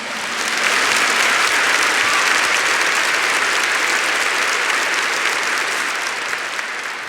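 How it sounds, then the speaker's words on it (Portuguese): A church congregation breaks into loud, sustained applause for the Lord after a miracle story, steady clapping that fills the room for several seconds with no voices over it. "Give the Lord a big clap for that."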